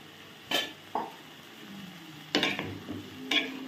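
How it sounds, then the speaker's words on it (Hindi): Soya chunks drop into a pan for a mixed vegetable dish, followed by a few sharp clinks and scrapes of a spoon stirring against the metal, with light sizzling in between. "अब इसमें मैं ऐड कर दूंगी सोया चंक्स को"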